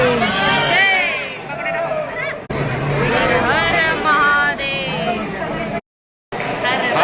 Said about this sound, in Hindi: तो आप देख सकते हैं कि भीड़ कितनी ज़्यादा है